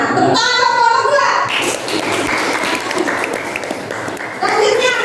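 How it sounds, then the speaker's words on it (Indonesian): A classroom of students applauds for a presenting group, dense clapping filling the middle of the clip, with a teacher's voice before and after it. "Tepuk tangan untuk kelompok 2."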